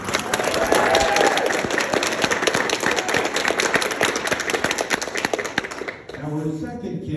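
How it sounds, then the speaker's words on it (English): An audience at a county clerk candidate debate gives a round of applause, dense, lively clapping that holds for about six seconds before fading as a voice begins speaking. "Let's give him a round of applause."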